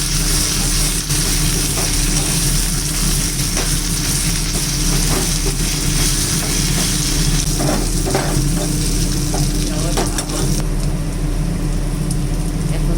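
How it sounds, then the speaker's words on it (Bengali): Steady, continuous sizzling of bay leaves and dried red chillies in hot oil, filling the whole stretch with a dense crackling hiss and no voices. "এখন দেখো তেজপাতা শুকনো লঙ্কা ফোড়ন দিয়ে দিলাম।"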